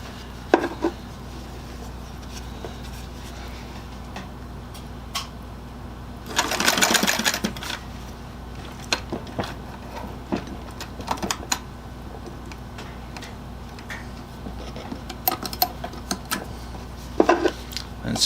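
A treadle sewing machine stitches apron material in a quiet workshop. Faint mechanical ticking runs throughout, with one louder whirring burst of stitching midway and a short one near the end.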